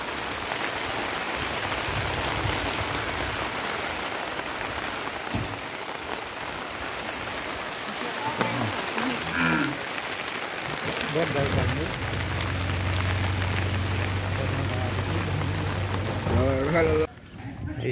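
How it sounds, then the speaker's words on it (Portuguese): Heavy rain falls at a cattle fair in Ibiapina, Ceará, a constant loud wash of rain on surfaces, with someone speaking over it and a low engine-like hum joining near the end. "E muita chuva aqui na nossa região, ó."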